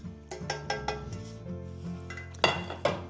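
Spoon scraping a biscuit base around a baking tin for a baked cheesecake, a series of close metallic scrapes and clinks with ringing tones, ending in two sharper knocks.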